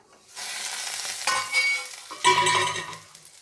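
Vegetables for veg chowmein stir-frying in a pan after being covered to soften, a loud close sizzle with stirring surges and scraping bursts throughout, no talking.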